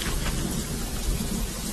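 Heavy rain pours steadily in a film scene, a dense, even hiss with a low rumble of thunder underneath and no voices.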